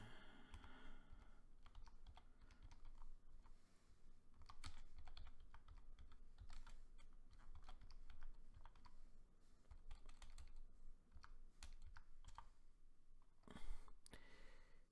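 Rapid, steady clicking of a computer keyboard being typed on, close and continuous for the whole stretch with brief pauses between bursts of keystrokes.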